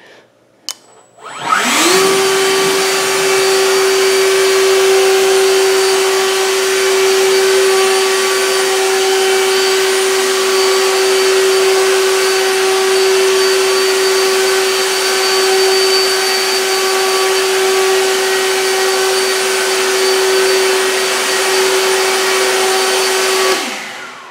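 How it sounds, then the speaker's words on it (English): An EGO 56V cordless backpack leaf blower, a 7.5Ah battery model, runs at full power while blowing out a garage. It spins up after a brief click and holds a steady, loud, close whine with a strong tonal hum for over twenty seconds, then stops abruptly. "Actually, I'm going to start by blowing out the garage."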